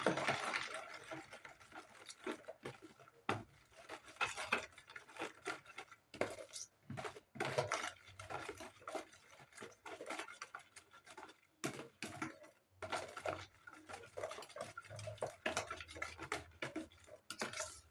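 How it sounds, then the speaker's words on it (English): A spoon or whisk mixes pancake batter in a bowl, making a steady run of quick clicks and scrapes against the sides for about eighteen seconds, close and moderately loud, with no talking. "Then you're gonna mix it all together."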